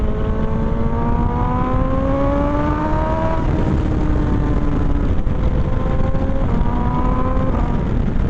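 A loud, close sport motorcycle, a BMW M1000 XR or Ducati Multistrada V4 RS, revs up through the gears with rising engine whine and crisp quick shifts marked by brief dips in pitch.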